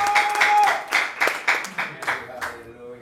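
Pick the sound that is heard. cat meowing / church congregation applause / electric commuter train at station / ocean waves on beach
church congregation applause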